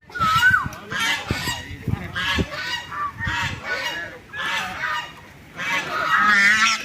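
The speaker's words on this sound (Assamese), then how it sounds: "পাৰ চৰাই, ৰাজহাঁহ একেলগে উৰি আহি গোটেইখিনি পৰিছে" Many geese honk in overlapping, repeated calls on temple grounds as migratory birds fly in and settle, a lively, close and loud chorus that continues throughout.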